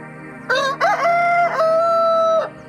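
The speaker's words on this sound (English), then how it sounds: "that crow is a challenge to all the other roosters in hearing distance" A rooster gives one long, close cock-a-doodle-doo on a farm, rising in short opening bursts and then holding a drawn-out, ringing final note before stopping abruptly, with no other voices.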